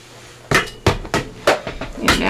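A paper trimmer is used for a cut and then put aside, giving five or six sharp, loud knocks and thumps spaced about half a second apart, close by and alone.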